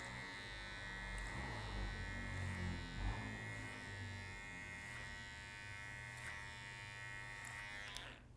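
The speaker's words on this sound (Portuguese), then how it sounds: "passar a máquina zerada por cima" An electric hair clipper with no guard runs over hair in a barbershop, a steady close buzzing drone with faint cutting texture and small recurring clicks as the blade passes, without any talking.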